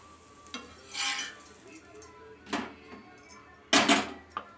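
A spatula scrapes and clinks against a pan as a cooked dosa made with curry leaves and betel leaves is lifted off. Three or four short scraping bursts stand out over a faint background sizzle.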